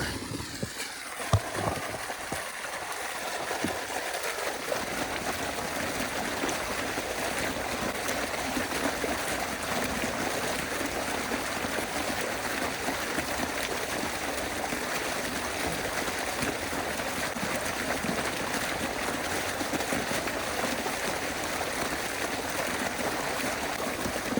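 Irrigation water gushes forcefully into a channel in a maize field, making a steady, loud rushing flow that continues unbroken throughout with no voices.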